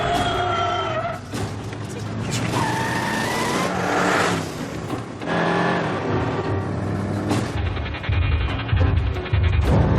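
A car speeds away under loud engine roar with tire squeal and revving, a dense continuous drive over tense action music that shifts near the end.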